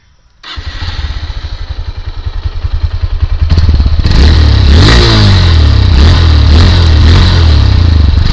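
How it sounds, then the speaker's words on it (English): A 2019 Honda CB Hornet 160R Special Edition motorcycle starts and idles with a steady, loud thumping exhaust pulse, then revs higher with several rising and falling throttle blips, close up with no talk. "Now let me show you the exhaust note of the vehicle."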